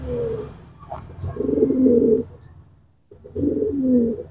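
Domestic farm pigeons coo nearby in two low, throaty bursts separated by a short pause, with no talking.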